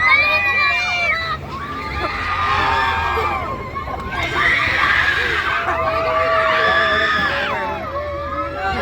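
At a family day event, a child screams and wails in long rising and falling cries over a lively crowd, with other voices chattering in the background.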